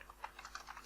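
Quick, light keystrokes on a computer keyboard while text is entered in Microsoft Word 2010, about eight close taps in under a second with an uneven rhythm, quiet and with no voices.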